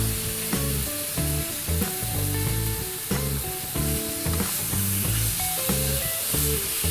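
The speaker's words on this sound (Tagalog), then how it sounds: "halu-haluin natin ito hanggang ang pork ay maluto" Pork sizzles steadily in a hot pan while being stirred, the loud continuous frying hiss broken by repeated scraping and clanking of a spatula, close up with no talking.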